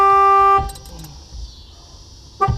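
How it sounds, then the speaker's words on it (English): A Nissan Hardbody truck's horn honks during a steering wheel install, one loud steady blast cut off sharply after about half a second, then a brief second toot near the end, close up. "it's going to honk your horn"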